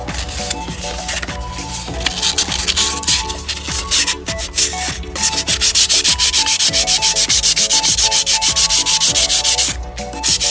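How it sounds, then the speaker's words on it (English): Hand sanding with 360 grit sandpaper on a thrifted dressing table part, producing loud, continuous rapid rubbing strokes in a fast, steady back-and-forth rhythm, close up and alone. "a sanding paper, 360 grit, just to sand them down, and just so they are nice and fine again"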